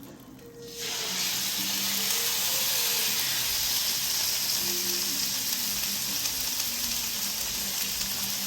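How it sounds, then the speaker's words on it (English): Chuck roast coated in olive oil sears in a hot pan, a loud steady sizzle that starts abruptly after a brief quiet moment and holds evenly throughout, with no talking. "we're gonna give this a sear on both sides"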